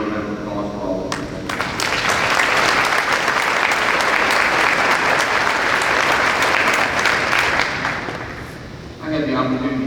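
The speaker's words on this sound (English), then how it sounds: "I'd just like to give her a round of applause for all of that." An audience at a military academy baccalaureate and awards ceremony breaks into sustained applause, loud, dense clapping that builds quickly, holds for several seconds, then fades as a voice returns.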